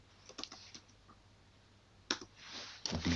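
Computer mouse clicks sound while working in FEM software: a few quick light taps early, a quiet pause, then two sharper clusters of clicks near the end.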